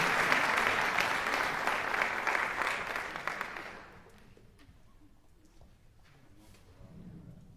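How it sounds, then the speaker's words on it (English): Audience applause for the PSU Jazz Combo at a Pittsburg State University jazz concert, loud and full for about four seconds, then dropping to scattered claps and faint murmurs as it dies away. "One more round of applause for them."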